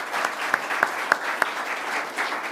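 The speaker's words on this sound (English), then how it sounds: "Let's give them both a round of applause." Audience applause closing a North Metro Mayors Association candidate forum for Senate District 36, a steady moderate clapping from a modest crowd with a few sharper individual claps standing out.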